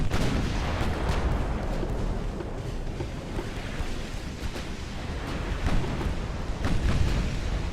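Heavy 13-inch naval gunfire from a battle in Ultimate Admiral: Dreadnoughts. Loud booms repeat over a dense, continuous rumble of battle noise, with no one talking.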